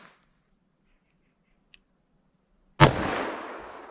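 A single sharp, loud .44 Magnum gunshot fired at a gel target cracks out after a quiet stretch and a faint click, then rings off in a long decaying tail.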